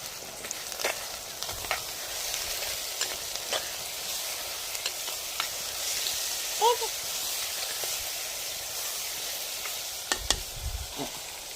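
Tomatoes sauté in a clay pot for fish curry, giving a steady, close sizzle with occasional stirring scrapes and a few brief clatters.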